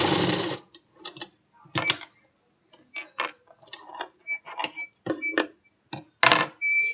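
Sewing machine stitching a folded blouse cup dart, heard as short separate bursts of mechanical rattle with brief pauses between, close by and moderately loud, with no talking.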